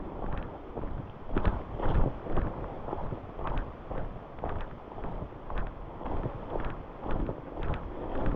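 Gusty wind buffets the microphone on a gravel road along a rainy hiking trail, rumbling in uneven low surges that rise and fall steadily across the whole stretch with no voices.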